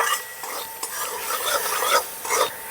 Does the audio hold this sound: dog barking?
no